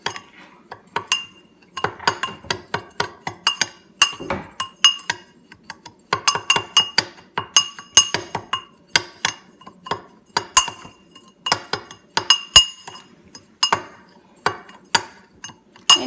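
A spoon clinks and scrapes against a bowl while dry spices for a BBQ pulled pork rub are mixed, a fast, uneven run of bright metallic ticks and taps close up.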